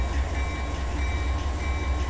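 A freight train in Run 8 Train Simulator backs up to couple onto its cars, giving a steady, loud low rumble with a constant mechanical hum and no voices.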